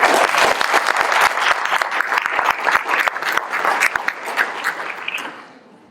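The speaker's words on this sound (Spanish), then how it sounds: "Les pido por favor a todos que recibamos con un fuerte aplauso al ingeniero" A large audience applauds warmly to welcome an engineer to the stage at a business school interview event, dense steady clapping that fades out over the final second.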